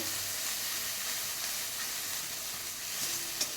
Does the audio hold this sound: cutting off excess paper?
no